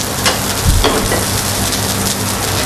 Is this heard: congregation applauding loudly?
no